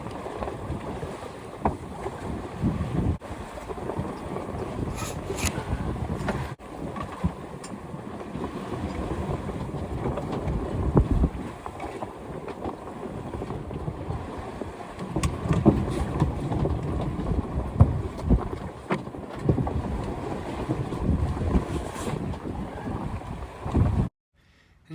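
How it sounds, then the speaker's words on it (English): A sailboat runs downwind under jib alone off Pico in the Azores, with steady wind rushing across the microphone and continuous water wash against the hull. It sounds loud and constant throughout, with no talk. "I'm just sailing with the jib only right now because it seems like this passage is going to be downwind"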